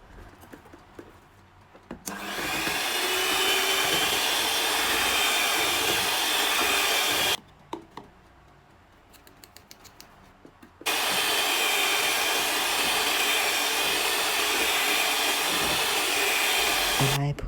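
An electric mixer whirs steadily as it blends flour into butter for a butter cake, running loud and continuous in two long bursts with a brief quieter pause between them.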